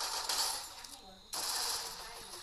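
Rapid automatic gunfire in an online shooter game, including MP40 and Thompson submachine guns, crackles in dense bursts, breaks off briefly, then resumes at the end, fairly quiet overall.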